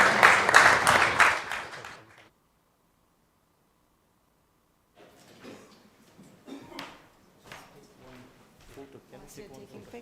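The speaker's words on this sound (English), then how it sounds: "Let's give a round of applause to our guest speakers" A conference audience at a Nepal-UK tech forum applauds its guest speakers in a loud, dense burst that dies away within about two seconds, followed by a silent gap and then quieter, scattered voices.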